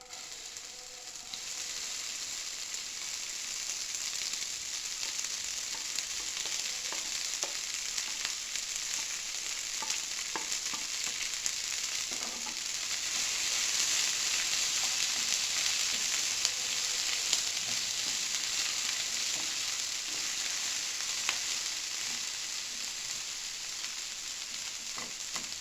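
Okra fries in hot oil with tempering spices, producing a steady, bright sizzle close by that swells slightly midway and is broken only by faint stirring clicks.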